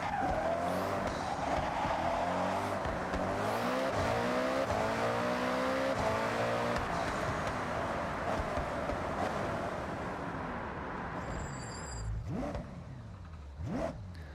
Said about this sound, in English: Did I just hear the brakes squeak on this car?